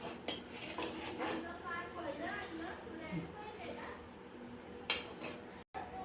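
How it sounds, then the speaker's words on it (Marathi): Fried potato vadas lifted out of hot oil onto a plate, with clinks and scrapes of a metal spoon against pan and plate over a soft background sizzle, and a voice talking faintly in the background. "त्याला त्याचं तेल निथळून एका प्लेटमध्ये आपण काढून घेऊया"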